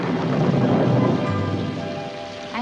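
A heavy rainstorm with a deep rumble of thunder, loud and close, the rumble rolling through the first half and easing as the steady rain continues.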